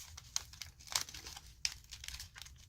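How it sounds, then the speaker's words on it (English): Paper being folded into an origami crane, close crisp crinkles and sharp creasing snaps in an uneven rhythm, quiet overall. "Now fold up the bottom flaps here."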